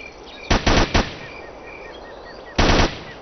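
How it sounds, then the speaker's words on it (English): Gunfire in the video game Ghost Recon Island Thunder, from a sniper rifle or Mark 17: a quick burst of three sharp loud shots, a pause, then one more heavy shot, with birdsong faintly behind. "that was a sniper shot from that. Or maybe that was Mark 17"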